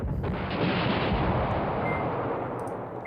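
Artillery bombardment in the wargame Command Ops 2 rolls as a steady, dense barrage of overlapping booms and rumbling detonations, loud and continuous with no pauses, gradually easing off near the end.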